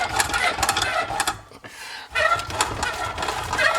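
A wrench works the stuck grinder of a garbage disposal from underneath with the power off, making short bursts of rough metallic grinding and scraping that repeat with a brief pause partway through.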